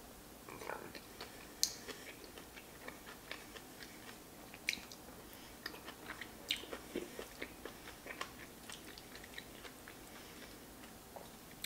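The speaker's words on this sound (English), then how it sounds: "The different crunch from the kimchi to the crispy rice." Crunchy kimchi and crispy sushi rice being chewed up close, a steady run of sharp crunches and wet bites with small clicks, quiet and intimate, with no talking over it.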